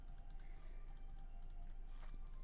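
Faint, quick clicks of a keyboard or mouse come in irregular bursts over a low background hum, with no talking, while clicking through dialogue in the visual novel Tsukihime.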